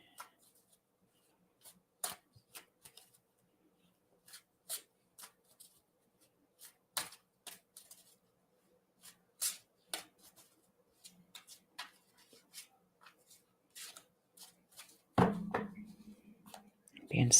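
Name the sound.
shuffling a deck of cards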